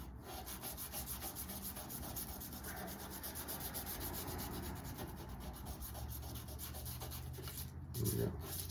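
Fret edges on a guitar are rubbed with 400 grit sandpaper, giving a soft, steady back-and-forth scratching close by, fairly quiet throughout.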